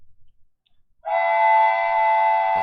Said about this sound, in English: That's the main train leaving the city.